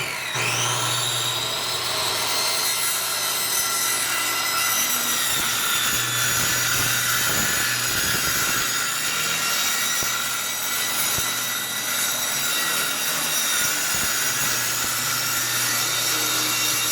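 A wooden board is hand-sawn in steady, continuous back-and-forth strokes, close and loud, with a low hum underneath throughout and no talking.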